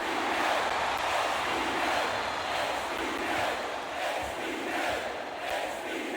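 Dense, steady roar of an arena crowd cheering in the wrestling video game WWE SmackDown vs Raw 2008, a continuous wash of voices at even loudness with no commentary over it.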